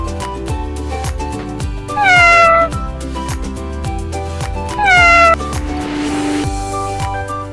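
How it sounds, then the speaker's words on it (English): A cat meows twice, loud and clear, over a bouncy children's song with a steady beat, followed by a brief hissy flourish. "C for cat."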